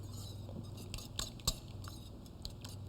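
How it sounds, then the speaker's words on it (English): A utensil stirring eggs and pepper together in a bowl for a vegetable frittata, light clinks and taps of metal on the bowl, quiet and close with a soft hum behind, no voices. "And stir those together fairly well"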